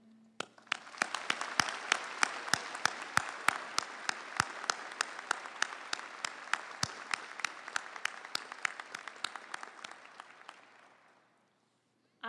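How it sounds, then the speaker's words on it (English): An audience at a law school commencement applauds steadily for about eleven seconds, dense clapping with sharp individual claps standing out, then fading to silence. "Would you please join with me in applauding our faculty for their dedication to our students"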